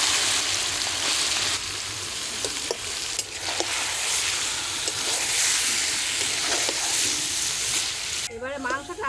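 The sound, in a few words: marinated chicken added to hot mustard oil in kadai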